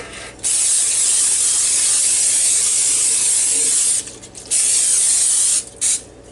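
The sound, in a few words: cooking spray sprayed on a pan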